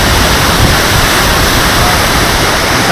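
A small waterfall spills from the Kuppanatham dam near Tiruvannamalai, giving a loud, steady, close rush of falling water that holds an even level throughout, with no voices.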